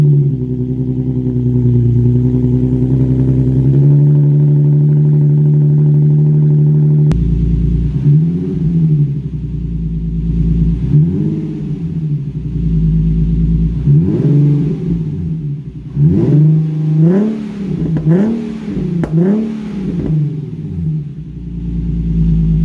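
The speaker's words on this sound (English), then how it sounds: "Mod number 4, the exhaust. More specifically, a muffler delete." A Nissan 370Z with a muffler-delete exhaust idles with a deep, loud drone, then is revved in a series of sharp rising and falling blips, close and unmuffled, growing busier toward the end.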